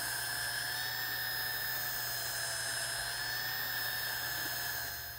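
A power drill mixing epoxy whines at a steady medium speed, one continuous high-pitched hum that never lets up for several seconds.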